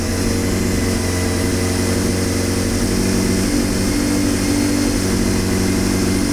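A four-cylinder carbureted engine runs unsteadily just after a carburetor cleaning. Its loud, continuous idle hums close by with a slightly uneven drone and no talking.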